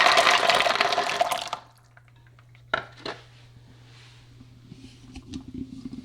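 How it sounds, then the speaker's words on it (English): Acorns are tipped into a bowl of water with a loud rushing pour and splashing for about a second and a half, then quieter clinks and small splashes as the nuts knock against the bowl, over a low steady hum. "you just put them in a bowl of water."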